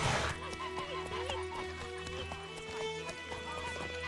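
Roach the horse in The Witcher 3 game, hooves clip-clopping at a steady walking rhythm with a brief whinny, against soft rural ambience and a voice speaking faintly.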